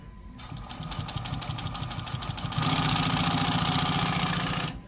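A Highlead GC24608 industrial sewing machine with top and bottom rollers runs on test at a sewing shop. Its rapid, steady mechanical stitching rhythm is close and loud and grows louder and faster partway through.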